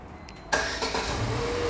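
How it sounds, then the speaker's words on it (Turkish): Engine start of a Mercedes B160 car: a quiet lead-in, a sudden crank-and-catch burst, then a steady idle hum that holds to the end, with no voices. "Çalıştırın arabayı."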